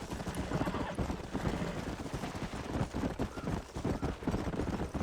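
A horse gallops in the Red Dead Redemption video game, rapid drumming hoofbeats in a dense rhythmic pattern, loud and close, mixed with busy game background noise.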